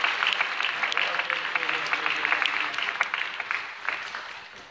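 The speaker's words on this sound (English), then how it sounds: "If you give Team Legacy a round of applause," An audience gives a round of applause for a team being honored at a gathering, brisk clapping from a modest crowd with individual sharp claps standing out, tapering off near the end.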